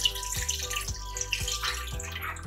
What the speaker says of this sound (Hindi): और इसमें हम डाल देंगे 2 ग्लास पानी के।